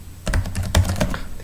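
Quick bursts of clacking keystrokes on a Dell laptop keyboard, close and crisp, tapped in an uneven rhythm with no voices.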